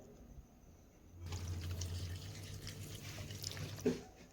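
Mixed chicken and vegetable stock is poured into a pot of chicken stew, giving a soft, steady liquid pouring sound that lasts about three seconds and ends in a small splash.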